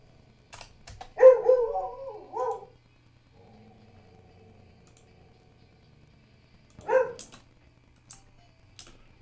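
A pet dog barks indoors during a home Terraria gaming session: a loud cluster of barks, a quiet pause, then another short bark burst, with faint keyboard clicking between.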